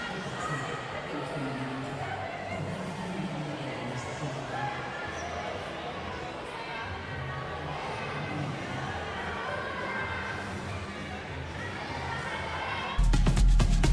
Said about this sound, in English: Petrovic brings this crowd to its feet